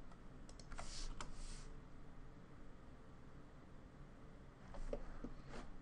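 Keystrokes on a computer keyboard as values are typed in, a few soft clicks clustered near the start and again near the end, with a steady low background hum in between.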